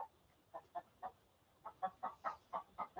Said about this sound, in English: This chicken.